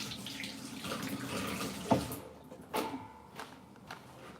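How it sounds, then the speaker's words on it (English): A kitchen tap runs steadily as hands are washed under it, the water stream filling the first half before stopping, followed by a few sharp knocks and clatters at the sink nearby. "I like to wash my hands all the time."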